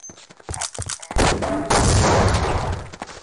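Video game gunfire in Half-Life: Opposing Force: a rapid burst of close, loud shots that builds into a sustained rattling volley with a dense, noisy tail.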